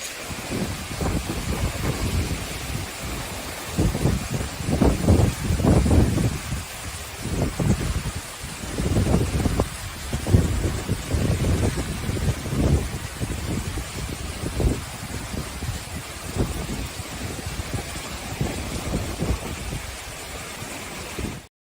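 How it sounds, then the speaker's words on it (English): Heavy rain from a nighttime storm played back from a recording, a dense continuous roar of downpour with surging, gusty swells throughout and no talk. "Wow, that's a lot of rain."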